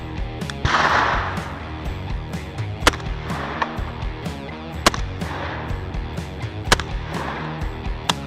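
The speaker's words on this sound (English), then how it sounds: "I'm going to shoot slugs at those and we'll see what happens." A shotgun fires slugs at steel targets outdoors, with three sharp, loud reports spaced about two seconds apart over a steady background.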